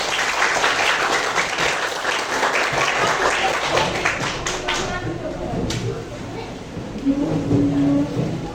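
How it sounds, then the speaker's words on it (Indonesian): Students in a grade 7 classroom guidance session clap together in a dense, sustained burst of applause that fills the room, with voices mixed in underneath and the clapping thinning toward the end. "Ya, tepuk tangan bagi kita."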